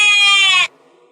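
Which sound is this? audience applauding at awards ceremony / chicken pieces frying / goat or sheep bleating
goat or sheep bleating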